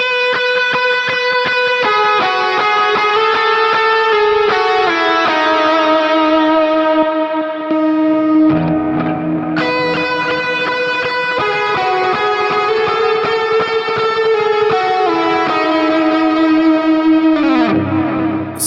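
Electric guitar played through a Fractal Axe-FX III and FM3 Plexi 1987x amp preset, sustained distorted chords and ringing notes with effects, loud and continuous, played alone with no talk.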